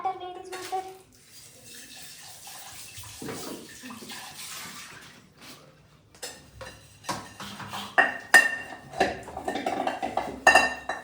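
Water splashes and runs into a cooking pot in a home kitchen, with pots and utensils clinking. The sound is quiet at first, then grows busier and louder with scattered clanks toward the end.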